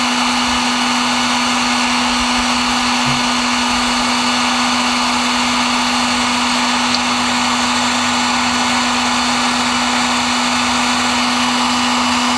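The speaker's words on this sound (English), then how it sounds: "I want to heat shrink the whole thing in first." A heat gun runs continuously at close range as it shrinks heat shrink tubing over motorcycle wiring on a 1970 Harley-Davidson Ironhead Sportster XLH, making a steady, loud blowing hum with a constant whine.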